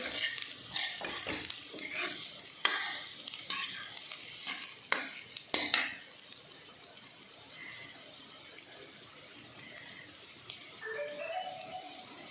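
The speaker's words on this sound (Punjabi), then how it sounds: "ਹਰੀਆਂ ਮਿਰਚਾਂ ਪਾ ਕੇ ਅਸੀਂ ਥੋੜੀ ਦੇਰ ਲਈ ਇਹਨੂੰ ਭੁੰਨਾਂਗੇ" Paneer bhurji with green chilies is sautéed in a pan. A spatula scrapes and stirs in brisk, sharp strokes at first, then eases off into a quieter, steady sizzle.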